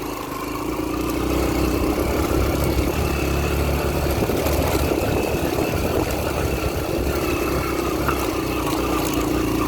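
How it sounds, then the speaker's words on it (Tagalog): A sport motorcycle engine drones steadily and loudly while riding over a rough road, with a constant mid-pitched hum and bumpy low rumble, no talking. "Ilang bintahe kang sport ang motor. Padag-agi sa rough road."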